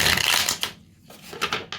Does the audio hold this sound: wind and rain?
no